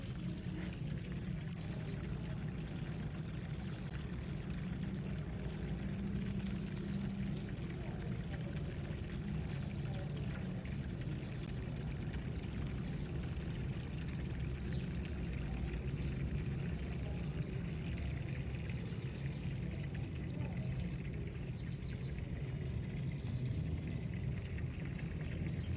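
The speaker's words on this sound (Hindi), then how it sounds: "ये पानी आ रहा है," Water pours steadily from a hose or pipe into a home garden, a continuous, even gushing and splashing that holds at a constant level for the whole stretch with no talk over it.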